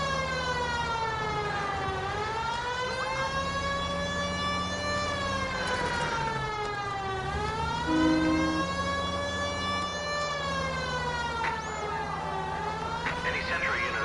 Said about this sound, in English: Let me turn on the siren real quick.